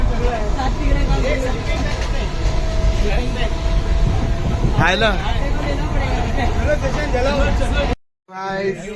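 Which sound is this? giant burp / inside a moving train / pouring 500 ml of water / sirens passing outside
inside a moving train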